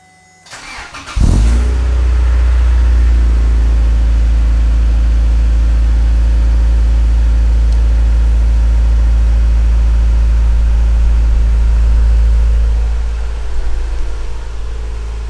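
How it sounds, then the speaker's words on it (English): Honda Integra Type R with a Fujitsu exhaust cold-starting: a brief starter crank, then the engine catches with a loud burst and settles into a steady, deep, close idle that holds, easing slightly near the end. "So I thought maybe we should start off with a cold start so you can all hear the car"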